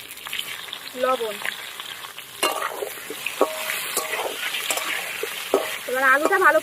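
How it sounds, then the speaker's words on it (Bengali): Potatoes fry in mustard oil in a wok, giving a steady sizzle broken by repeated scrapes and clinks of a spatula stirring, with a voice talking briefly in places. "এবার আলুটা ভালো করে একদম ভেজে নেবো,"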